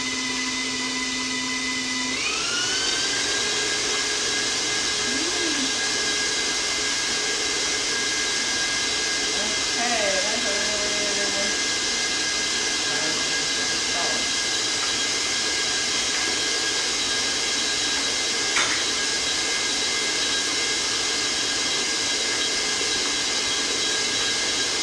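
An electric hand mixer whirs steadily and loudly as it beats four eggs in a bowl for sugar cookie dough, a continuous motor drone with shifting pitch that runs the whole time.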